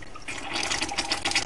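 Water begins to flow into a Cartis fountain as it is filled during cleaning, a close, bubbly splashing and gurgling rush that builds slightly over a second and a half.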